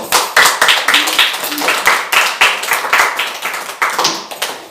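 A church congregation claps loudly and rhythmically in near-unison beats, each sharp clap rising and decaying in quick succession, close and strong throughout.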